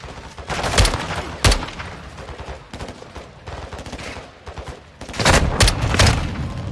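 Loud bursts of gunfire ring out in the Call of Duty Modern Warfare II campaign, with several sharp cracks and rapid volleys clustered near the start and end and quieter rattling between them.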